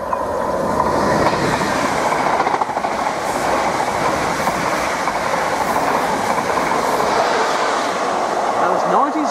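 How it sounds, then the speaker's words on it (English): A Mark 3 passenger set speeds through Needham Market Station on its way to Norwich, a loud continuous roar of wheels and rails with rhythmic clickety-clack close by, lasting the whole stretch. "through train to be passing from Needham Market Station shortly. It's another Mark 3 set on its way to Norwich"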